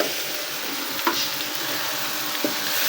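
Okra sizzles steadily as it fries in a pan, with a couple of brief scraping stirs cutting through the constant hiss.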